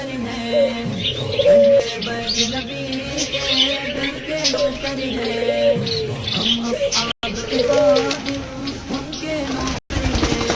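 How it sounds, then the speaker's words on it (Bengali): Pigeons coo repeatedly at close range in a soft, rolling rhythm, with chirps from other birds and some background voices. "এগুলো তো কবুতর, এগুলো চিনি"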